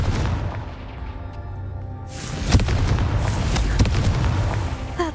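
A Confringo explosive spell cast in the Hogwarts Legacy video game bursts loudly a few seconds in, followed by sustained rumbling blasts and crackling impacts of spell combat.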